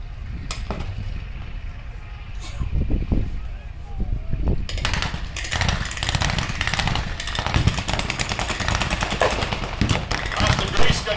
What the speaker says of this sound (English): That's the grease gun you heard there.